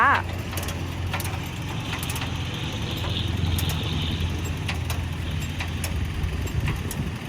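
A used farm tractor runs during a customer delivery, its engine a low, steady idling rumble heard at moderate distance, with a few faint clicks and clanks and bits of background talk over the drone.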